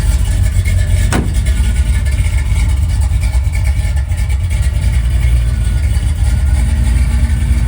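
A 1969 Chevy K5 Blazer with a new Flowmaster exhaust idles loudly and steadily nearby, a deep continuous rumble with one sharp click early on.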